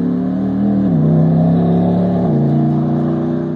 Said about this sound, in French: t'ouvres les 16 cylindres en grand